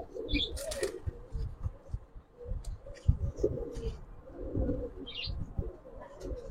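Giribaz pigeons coo in low, soft repeated bursts at close range, with a few brief chirps and wing flutters over a steady background murmur.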